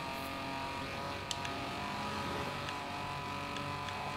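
A car engine in Forza Horizon 4 hums steadily at a moderate, distant level throughout, with a faint continuous tone and no clear revving peaks.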